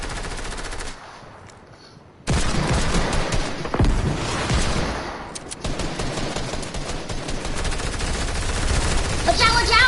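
Fortnite gunfight with Desert Eagle pistols and other weapons: loud, rapid cracking shots in dense volleys. A brief near-silent pause comes early, then the firing resumes and builds steadily, with faint voices underneath.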